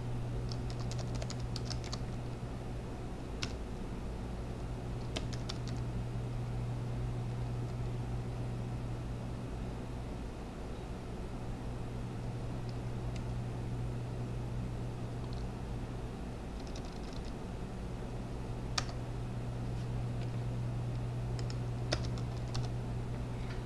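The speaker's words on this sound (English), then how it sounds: "type in just Woodsetter in the street name box" Keys on a computer keyboard click in quick, uneven bursts as a street name is typed into a form, fairly faint over a steady low background hum, with no voices.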